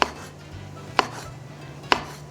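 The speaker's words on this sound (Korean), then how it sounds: "표고버섯은 약간 두툼하게 썰어 주시는 게 좋습니다" Knife cutting thick slices of shiitake mushroom on a board, three crisp separate chops about a second apart against a quiet, faintly humming kitchen.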